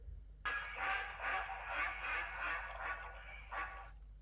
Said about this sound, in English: There is a lot of quacking and splashing going on in the duck pond.